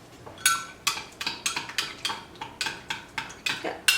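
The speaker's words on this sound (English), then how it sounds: "I'm just going to stir this all together and sit this to the side." A utensil stirring minced garlic mixture in a bowl, giving a rapid series of about a dozen sharp clinks and scrapes against the bowl in an uneven rhythm, close by with no voices.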